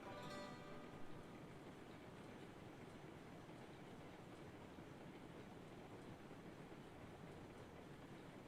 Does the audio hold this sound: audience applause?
no